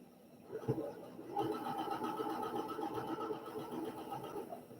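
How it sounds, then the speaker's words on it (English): A home sewing machine runs steadily on a quilt block seam, its rapid mechanical stitching chatter starting after a brief thump and continuing evenly and close by, with no talk over it. "You can take that to the sewing machine"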